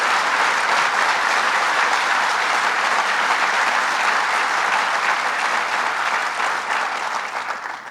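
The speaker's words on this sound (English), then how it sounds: "Let's give her a round of applause, Senator Kathy Young." An audience at a jobs announcement in Dunkirk applauds a state senator with loud, sustained clapping that fills the room, then tapers off near the end.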